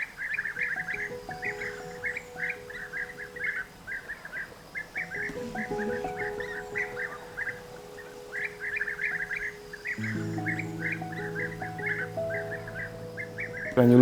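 Bee-eaters call over and over at Hortobagy National Park: a steady stream of short, bright chirps runs throughout, over a low, constant drone.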